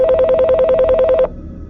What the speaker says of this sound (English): the classroom phone started ringing